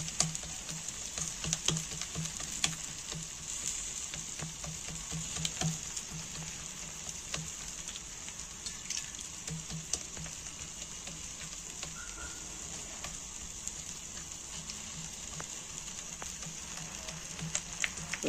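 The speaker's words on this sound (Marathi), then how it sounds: "हे भाजतंय मस्त, खरपूस भाजायचं थालीपीठ" Onion thalipeeth, a Maharashtrian flatbread, roasts crisp on a hot pan with a low, steady sizzle and scattered light crackles and pops running on evenly with no one speaking.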